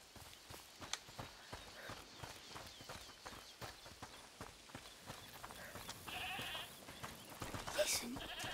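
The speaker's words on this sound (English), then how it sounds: "Is that the goat you talked about?" Goat bleating within the game A Plague Tale: Requiem, heard over a busy scene of clopping hooves and sharp clicks, with a louder bleat rising near the end.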